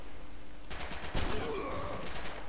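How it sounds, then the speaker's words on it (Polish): Gunfire in the World War II shooter game Red Orchestra 2, a single sharp crack with a brief rumbling tail heard over ambient game noise, no speech. "i nad nami po prostu padł strzał"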